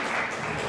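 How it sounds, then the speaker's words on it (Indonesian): A brief burst of dense clapping from a youth seminar audience at the Danau Toba festival, steady and fairly faint, with no voices standing out. "Boleh tepuk tangan dulu teman-teman semuanya"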